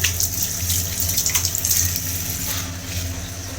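Running tap water splashing steadily into a sink as someone rinses their eyes at an office, a close, continuous wash of water with no voices.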